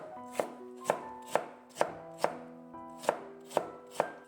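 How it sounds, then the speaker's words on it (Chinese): A kitchen knife cutting radish into thin shreds on a board, eight crisp evenly spaced chops about half a second apart, close and clear with no talking. "再改刀给它切成细丝"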